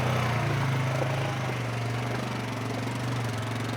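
A Polaris ATV engine drones steadily and loudly up close while riding an off-road trail, with a rough, pulsing mid-range hum and wind and vibration noise throughout.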